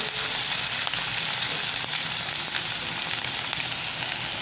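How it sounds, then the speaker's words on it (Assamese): Chopped onions fry in a pan, browning for aloo chop, with a continuous loud sizzle and scattered small crackles and pops, heard up close without any speech. "পিঁয়াজখিনি ভাজোঁ অকণমান সময়"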